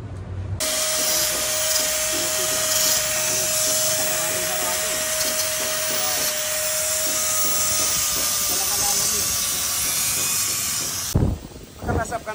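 Aircon pipe on a Mitsubishi L300 being cut, a loud sustained high hiss with a steady whine running almost without break for about ten seconds, then stopping abruptly.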